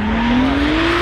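A drifting car engine, a Toyota Supra at Gatebil Mantorp, roars loud and close with a steadily rising revving pitch and tire noise underneath, all in one brief burst.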